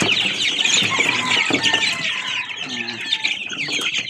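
Hungry chickens cluck and chatter close by in a dense, continuous flock noise, with a wing flap or two mixed in.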